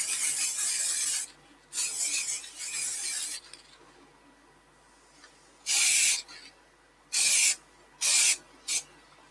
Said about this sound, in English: when I'm putting the acrylic sanding sealer on